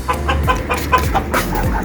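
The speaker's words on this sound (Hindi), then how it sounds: "जी नवाज़ साहब जो है ये मुर्गे दोनों निकाल के जो है ये अंदर रखना चाह रहे हैं हम लोग" Close, busy clucking from roosters, a string of short overlapping calls with no talk.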